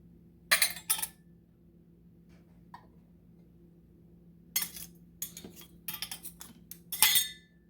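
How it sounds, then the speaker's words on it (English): Metal lids set onto glass jars of beef stew ahead of pressure canning, producing sharp clinks and rattles in two clusters, a pair early on and a denser series later, over a steady low hum. "So we are going to go ahead and put our lids on."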